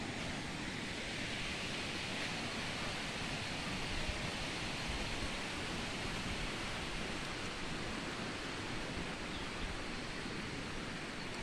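Heavy rain pours down on a village during the monsoon, with running water mixed in, making a steady, dense, loud hiss that lasts the whole time with no break.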